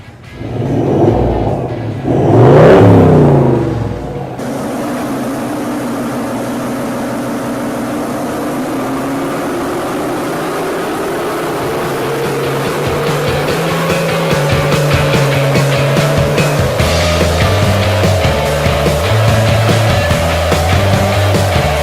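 A deep Toyota LandCruiser 79 engine on a dyno idles, blips loudly, then settles into a steady drone that slowly climbs in pitch as the revs build, heavy and close through a 5-inch dump pipe into a 4-inch exhaust.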